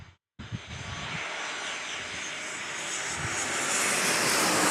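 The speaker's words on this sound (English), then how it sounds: "American Airlines PSA livery on the A321." An American Airlines A321 jet in PSA livery at San Diego airport roars loudly, a broad engine rumble and hiss that builds steadily after a brief cut, growing louder toward the end with no talk.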